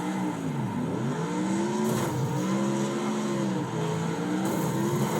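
A very fast car in a video game shifts through rising and falling engine revs, with several sweeping accelerations, tire noise and a steady game soundtrack bed, all without voices.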